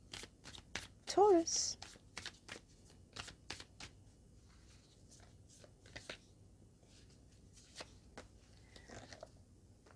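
Animal spirit cards are shuffled close by in quick, irregular riffling snaps and flicks. A brief spoken word breaks in early on, and the shuffling fades to sparser taps later.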